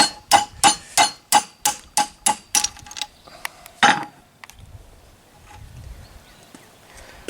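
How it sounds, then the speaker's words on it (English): A hammer taps a 5/8 deep well socket to drive the top bearing off a Kubota mower deck spindle shaft. About ten sharp metallic blows land in an even rhythm, then a final harder strike and quiet handling noise. "A few taps on that and that top bearing will be right off of that shaft."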